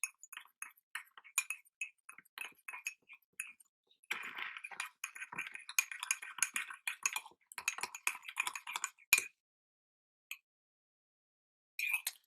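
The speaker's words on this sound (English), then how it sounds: "stir it together until the batter is smooth" A spoon stirs Duncan Hines brownie mug cake batter in a mug, making rapid, uneven clinks and scrapes that run steadily, go quiet briefly near the end, then return for a short burst. No one speaks.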